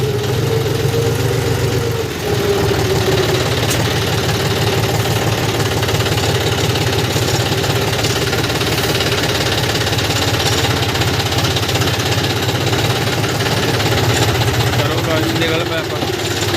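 A John Deere tractor engine idles steadily with a low, continuous diesel rumble and a slight knock, close and loud throughout with no change in pace, while someone talks over it.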